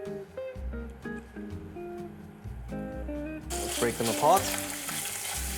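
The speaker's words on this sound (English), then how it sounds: "Cooking squid this way is incredibly interesting because they always pop as if they're trying to escape the pan." Squid frying and popping in hot oil in a paella pan, a broad sizzle swelling in the second half with sharp pops, under music and a brief spoken line.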